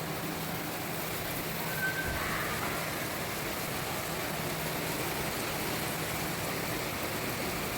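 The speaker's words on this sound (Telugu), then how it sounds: "ఇక్కడ గుంటూరులో వర్షం పడుతుంది" Rain falls steadily in Guntur as an even, continuous wash of hiss that stays constant and moderately loud from start to finish.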